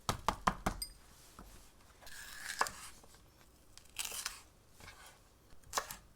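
A knife slices deseeded paprika into long strips on a cutting board, giving a few sharp, close taps and cuts at uneven intervals with quiet pauses between, and no voices.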